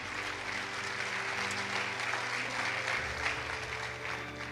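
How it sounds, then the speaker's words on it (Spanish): A church congregation applauds in a steady, dense wash of clapping that holds evenly for several seconds, moderately distant in a large room. "Dele un aplauso fuerte al Señor"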